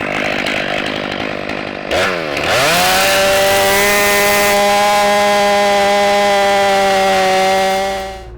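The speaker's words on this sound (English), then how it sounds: "Chainsaw runs like a scalded dog." A chainsaw roars loudly up close, dipping briefly as it bites and then holding a steady high-pitched whine while bucking heavy cottonwood firewood rounds.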